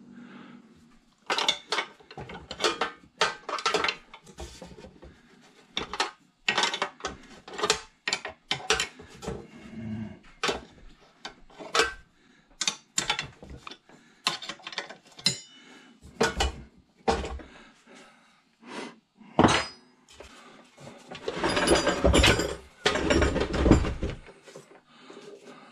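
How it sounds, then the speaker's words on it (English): Ratchet loosening bolts on a drill press motor in a shop: a series of quick, close metallic clicks and clanks in irregular bursts, with handling noises in between. "loosen up these two bolts right here"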